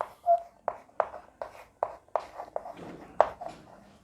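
Marker or chalk strokes on a classroom board during a physics lesson, about nine short scratchy bursts in an uneven rhythm, close and fairly quiet, with no talking.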